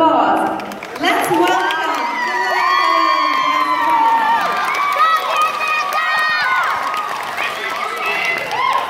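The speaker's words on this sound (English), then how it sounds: "with a huge round of applause" A lively crowd at a Namaste Canada 2017 Bharatanatyam dance event cheers and shouts with whoops, excited voices rising over a steady roar, some clapping mixed in throughout.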